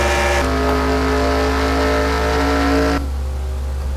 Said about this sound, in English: Look at all those cars passing by.